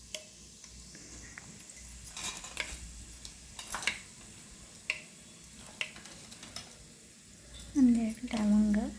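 Whole spices fry in a pan, with quiet crackling and scattered ticks and pops under soft stirring, and a voice speaks briefly near the end.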